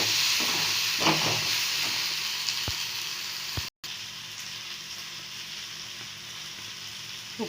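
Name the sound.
tomatoes sautéing and sizzling in a pan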